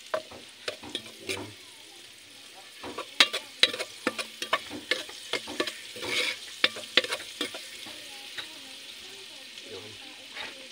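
Garlic sizzles in a pan as it is stir-fried, with frequent sharp spatula scrapes and clacks over a soft frying hiss and occasional brief talk.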